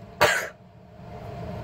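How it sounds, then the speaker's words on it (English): A single sharp cough from someone in a workshop full of sawdust, loud and close, followed by quiet room noise. "Sorry, just started coughing because I have sawdust everywhere."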